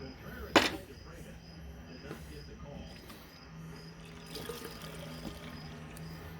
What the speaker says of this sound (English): Put a little more fuel in there and see what that does.